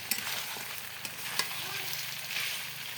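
Mutton sautéed in oil in a pot over a village clay stove hisses with a continuous sizzle, punctuated by occasional spoon scrapes and knocks as it is stirred.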